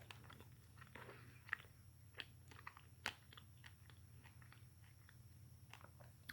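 Crunchy doughnuts being bitten and chewed close to the mic, a series of quiet crisp crunches and sharp clicks over a low hum, no talking.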